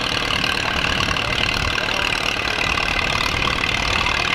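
A 1948 Allis-Chalmers tractor idles steadily at an outdoor threshing show, its engine making a continuous close, loud rumble with no pauses and no voices.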